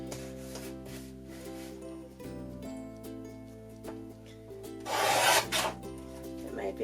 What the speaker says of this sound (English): So I'm going to trim them off as well.